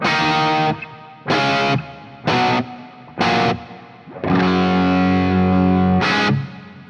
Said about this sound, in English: the amount of reverb on there it's huge